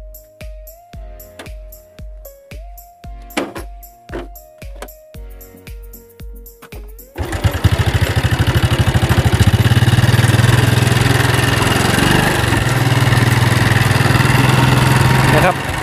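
A motorcycle ridden by an older woman starts and pulls away, its steady engine drone building to a loud, continuous roar after a stretch of rhythmic idling sounds by a farm roadside lined with eucalyptus trees.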